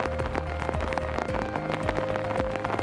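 Heavy rain pours down steadily during a torrential downpour in Makurazaki City, Kagoshima Prefecture, a dense constant patter of drops on surfaces with no voices.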